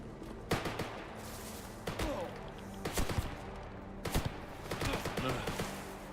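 Gunfire in the S.T.A.L.K.E.R. GAMMA shooter: several sharp, loud bursts arrive in irregular clusters over a steady background bed, with no speech over them.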